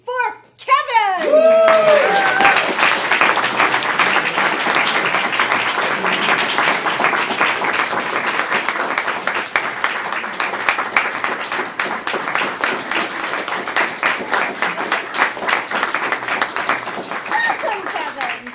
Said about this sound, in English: give a rounding applause for Kevin